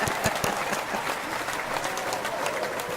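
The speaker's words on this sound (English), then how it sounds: "Tony, why don't you give Michelle that nice little applause?" Live audience applause at a Vino & Voices show with Jennifer Shaffer, a steady, close round of clapping with crisp individual claps throughout.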